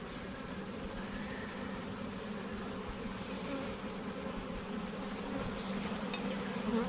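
Honey bees hum and buzz in a dense, steady drone at an opened hive during spring housekeeping, a soft continuous swarm sound with no voices.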